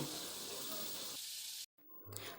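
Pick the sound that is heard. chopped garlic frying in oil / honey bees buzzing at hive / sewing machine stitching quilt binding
chopped garlic frying in oil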